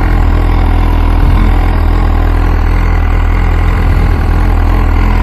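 An MV Agusta F4 superbike idles steadily while warming up, a loud, constant engine rumble held close by with no break and no talk over it.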